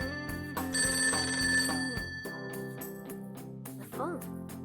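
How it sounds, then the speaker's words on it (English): Telephone ringing in the video game Persona 5 Tactica: a bright electronic ring sounds for about a second over steady game music, then the music plays on alone. "The phone."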